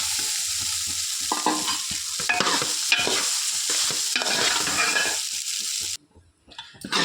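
Rice stir-fried with ponnaganti greens in a pan makes a loud, busy scraping and tossing against a bed of sizzle. The stirring comes in uneven bursts before stopping abruptly, leaving a few faint knocks.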